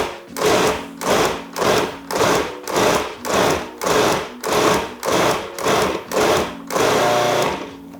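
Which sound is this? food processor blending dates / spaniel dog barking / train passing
food processor blending dates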